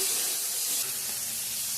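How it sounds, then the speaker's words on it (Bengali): Steady, loud sizzling of eggplant frying in hot oil, a constant crackling hiss throughout. "ভাজাটা বসিয়ে দিলাম"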